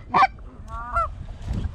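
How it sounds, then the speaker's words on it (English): A few loud goose honks nearby, one sharp call followed by softer nasal honks, with faint background noise. "That's seagulls? No, that's geese."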